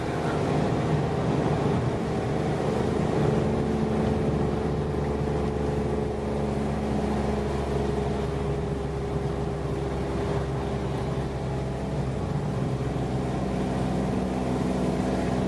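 A car engine labors steadily under load, a continuous low drone heard from inside the vehicle as it climbs a steep hill in the Quantock Hills.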